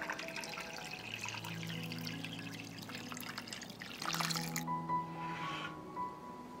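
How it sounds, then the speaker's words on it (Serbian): Water poured into a cooking pot that holds glass jars set on a cloth, filling up toward the lid level; a quiet, continuous pouring and trickling that shifts partway through, with no talking. "Sipat ću vodu u šerpu do visine poklopca."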